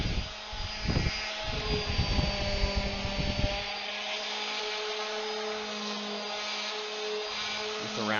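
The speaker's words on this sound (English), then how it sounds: "Just a round over sand really quick." A power sander runs on a wooden edge, rounding it over for a coffee nook build: a loud, steady whine with rougher bursts of contact during the first few seconds, then a smoother continuous hum.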